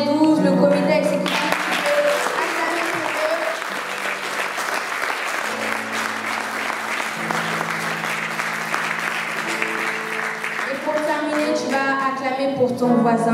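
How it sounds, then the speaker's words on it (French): A church congregation applauds its leaders, the G12 and executive committee, with sustained, dense clapping over worship music, as background voices carry beneath. "Nous allons aussi acclamer pour les différents responsables de cette église"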